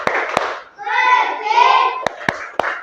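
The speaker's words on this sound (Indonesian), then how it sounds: "Oke, sekarang coba kita tepuk sehat ya." A classroom of children doing a rhythmic group clapping routine, with sharp isolated claps at the start and end and a stretch of children chanting together in the middle.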